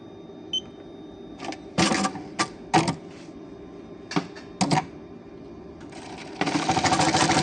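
A Juki LBH-1790 buttonhole sewing machine stitches in short, loud mechanical bursts with clicks and pauses, then settles into a sustained rapid run at the end.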